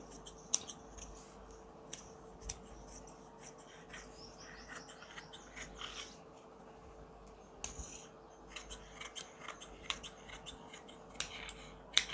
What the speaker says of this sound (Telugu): ఒక ఇంచు మందం నడుము పట్టి కటింగ్ చేసుకుంటున్నా